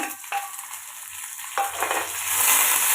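Onion, dried chillies and curry leaves hit hot oil with a sudden sizzle, then fry with crackling and stirring scrapes that swell louder toward the end, close up and without voices.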